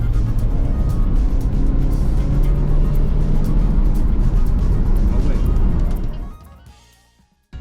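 A Renault 19 16S petrol engine pulls steadily from inside the car while driving, a loud continuous drone for about six seconds before it fades sharply toward silence.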